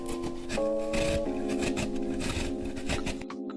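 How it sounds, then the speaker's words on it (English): Fresh peeled ginger is rubbed against a grater in quick, continuous rasping strokes, close and fairly loud, with a faint hum underneath before stopping near the end. "Start by peeling and grating about 2 tablespoons of fresh ginger."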